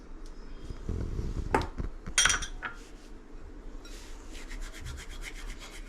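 Sattu flour and carom seeds are pressed and rubbed together by hand, giving soft gritty scrubbing sounds, close and quiet, with a few light clinks and a brief scrape.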